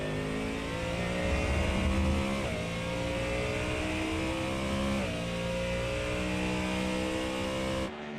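Ford Mustang GT3 race car engine in a sim racing game at Shell V-Power Motorsport Park, droning loud and steady with rising revs and two quick gear-shift dips, cutting off sharply at the end.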